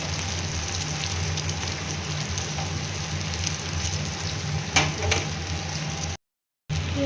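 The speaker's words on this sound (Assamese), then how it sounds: "ডিমাখিনি ভাজি" Eggs fry in a pan with a continuous soft sizzle and crackle, steady throughout with a couple of brief louder pops near the end.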